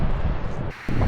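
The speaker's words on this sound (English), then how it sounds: "it's a little bit windy and a little bit chilly" Wind buffets the microphone on the Oregon coast near Haystack Rock, a close, gusty rumble that drops away briefly before blasting back in.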